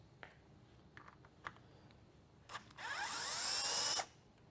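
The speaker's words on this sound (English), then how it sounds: "You need the screw gun," Screw gun fitted with a 20 Torx bit removing washered Torx screws from FlexKraft marine gear: a few light taps and clicks, then a loud, close whirring drill burst lasting just over a second before stopping abruptly.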